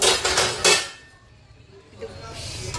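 A metal lid clinks down onto a cooking pot of simmering vegetable curry, with a few sharp clattering knocks early on, then quiet stove hiss and a softer clink near the end.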